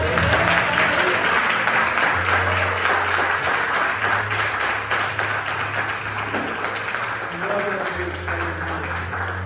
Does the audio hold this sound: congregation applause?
yes